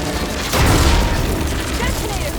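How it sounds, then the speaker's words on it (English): A single heavy explosion goes off in Horizon Forbidden West, hitting suddenly and loud, then rumbling out and fading over the next two seconds. "Detonated right on target!"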